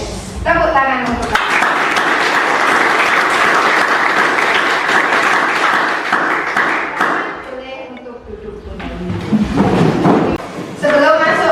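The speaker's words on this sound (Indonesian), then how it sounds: "Tepuk tangan untuk" Classroom applause from students at an Islamic junior high school, loud sustained clapping with thumps and taps, fading briefly near the end before swelling again.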